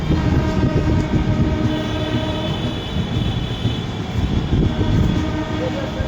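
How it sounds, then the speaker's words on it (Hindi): The Hatia–Islampur–New Delhi Magadh Express passing close by in the opposite direction, heard from aboard a moving express train as a loud continuous rumble and clatter of wheels on rails, with a faint horn and some voices underneath. "सामने से कौन सी ट्रेनें निकल रही है। ये है हटिया इस्लामपुर नई दिल्ली मगध एक्सप्रेस"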